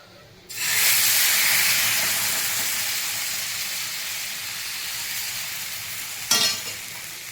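Rice flour ghavne batter with chilli and coriander hits hot oil in a pan, bursting into a loud, close, steady sizzle that slowly fades, with a second sharp burst of hissing near the end.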